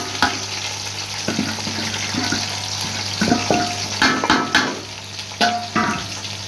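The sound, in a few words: okra frying in hot ghee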